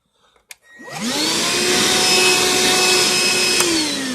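A Hercules 1/2 gallon cordless wet/dry shop vac with a 5 amp battery switches on after a couple of clicks. Its motor whines up quickly to a loud, steady whir and holds there, with no one talking.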